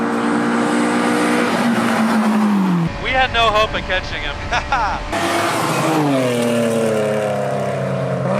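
A 1980s BMW 3 Series race car drives on track, its engine loud and steady with rising and falling pitch, cut briefly by a harsher burst before settling back; a person talks over the engine noise.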